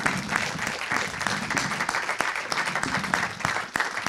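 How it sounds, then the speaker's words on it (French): Audience applause for students after a mock trial, a dense, steady wash of many hands clapping that carries on without a break, fairly close and full, with no talk over it. "Donc je vous invite à les remercier et à les applaudir."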